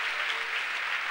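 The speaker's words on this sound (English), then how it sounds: "Brethren, clap for Jesus for what he has done." Church congregation applauding during a preaching service, a dense, even wash of many hands clapping at a moderate distance, short and continuous.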